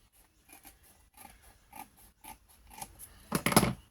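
Junk-journal writing boards being cut in half, a run of short, quiet snips that builds to a louder crunching cut at the end.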